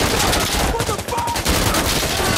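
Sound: gunfire in Insurgency Sandstorm video game

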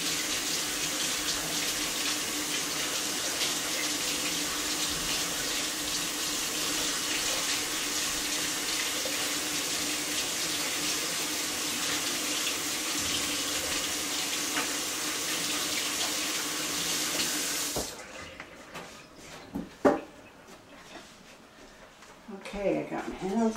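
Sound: running water from a tap while washing hands

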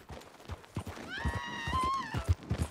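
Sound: horse neighing in video game Red Dead Redemption 2

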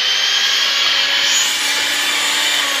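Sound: beating eggs until fluffy for keto bread

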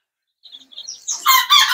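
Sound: three-week-old chicks chirping in brooder

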